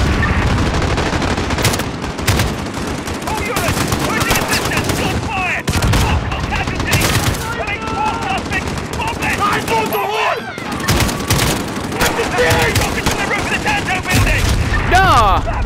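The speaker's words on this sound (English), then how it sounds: "Gunfire!" In the video game Call of Duty: Modern Warfare, bursts of rapid gunfire crackle repeatedly at close range, with heavy booms mixed in and voices shouting over the shooting.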